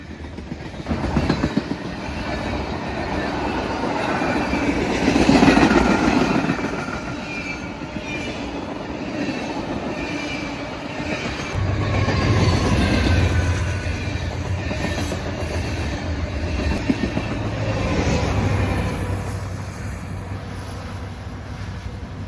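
Union Pacific freight train passing with H1-9 locomotives trailing third and as a mid-DPU plus an SD-78 rear DPU, a steady rolling rumble with wheel clatter that swells and eases as cars go by, no voices.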